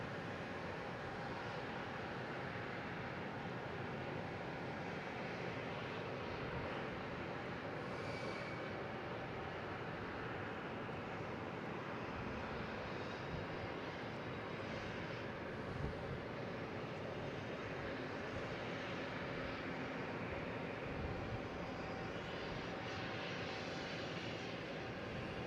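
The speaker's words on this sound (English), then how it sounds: "next to arrive is a Delta coming in from Reagan" A Delta airliner arriving from Reagan to land at Boston Logan, a steady broad jet roar that holds for the whole stretch without breaks or voices.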